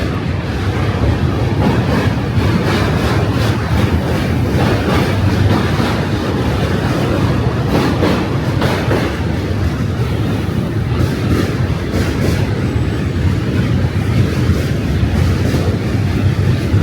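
A train crosses the Manhattan Bridge in New York, heard up close from the walkway as a loud, unbroken roar and rumble with steady rattling, buffeted by wind against the microphone.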